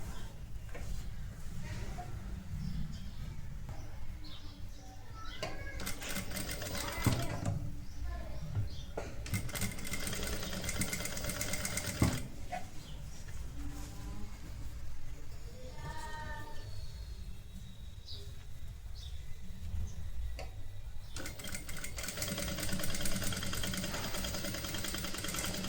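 Domestic sewing machine stitching elastic along the edge of a royal blue lehenga saree in bursts of rapid mechanical whirring, separated by pauses in which someone talks, recorded close.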